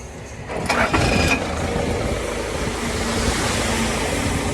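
An engine cranks and catches with a sharp burst, then settles into a steady, loud running drone with wind rushing in the background.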